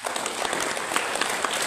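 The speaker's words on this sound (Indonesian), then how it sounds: "Kita berikan aplaus untuk Bapak." An audience at a church service in Makassar gives the pastor steady, dense applause from many hands, loud and close, with no talking.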